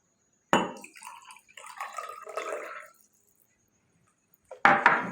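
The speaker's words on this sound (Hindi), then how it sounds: "इसके बाद हम सादा पानी डालेंगे" Plain water pours into a glass already holding honey, a short trickling splash lasting a couple of seconds, followed by a brief knock of the glass or bottle nearby.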